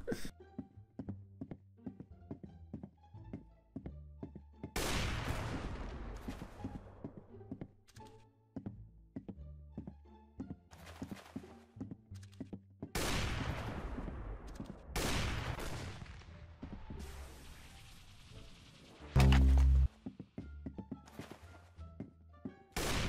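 Gunfire in the Roblox Arsenal video game, with bursts of rapid shots and single cracks scattered among quieter stretches of clicking and game sounds, fairly close and punchy, with no talking.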